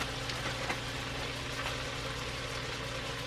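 Frozen chopped white onions frying in a pan, a soft continuous sizzle with faint crackles, quiet and steady throughout.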